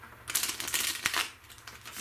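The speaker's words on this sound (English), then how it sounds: "But I'll give this one more good shuffle." A deck of playing cards is shuffled close up, giving a quick burst of papery riffling and flicks that lasts about a second and a half, with no voices.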